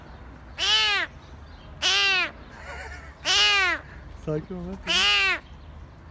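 A cat trapped under a car's hood gives four loud, drawn-out meows at regular intervals, close by, while a person speaks briefly and softly between them.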